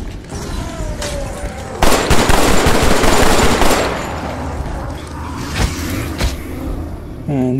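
A grenade bursts in the VR shooter Killing Floor: Incursion, a loud broadband blast that rumbles for about two seconds amid ongoing gunfire and mechanical clatter.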